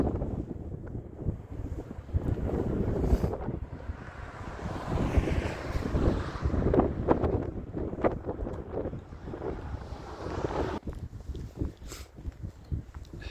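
Gusty wind buffets a microphone outdoors, a steady low rumble with louder surges throughout, with no voices.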